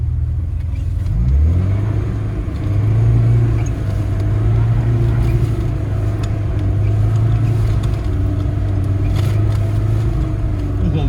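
A VAZ 2106 car on worn summer tyres pulls away in second gear, its loud close engine drone rising then holding a steady hum inside the cabin, with road rumble underneath.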